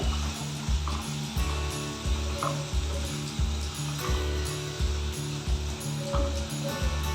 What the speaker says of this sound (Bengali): কেটে রাখা আলুগুলো এর মধ্যে দিয়ে দিচ্ছি তাহলে মশলাগুলো ওর মধ্যেও একেবারে মেখে যাবে